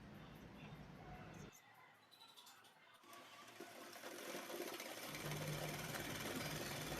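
A sewing machine stitches a folded hem on a women's trouser, first as a brief run and then as a steady, close whir that carries on for several seconds. Light fabric handling is heard during the pause.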